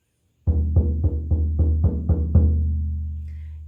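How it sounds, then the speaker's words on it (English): A drum struck in a steady rhythm, eight deep booming beats evenly spaced, each ringing with a resonant low tone that lingers after the last hit. "So I will be playing a drum"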